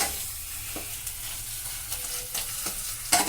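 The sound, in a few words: stirring potatoes frying in oil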